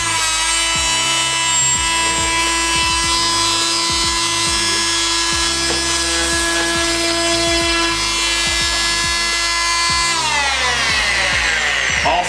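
Bosch PMF 350 CES multifunction tool cutting into a cardboard box: a loud, continuous high-pitched buzzing drone with a strong steady tone, slight pitch shifts and a drop near the end, close and alone.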